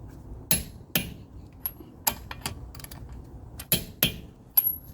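A wrench torques a bolt on the CV axle of a 2008–2012 Mercedes-Benz C-Class, sharp metallic clicks and knocks in an irregular series of about ten, close and crisp over a quiet garage background.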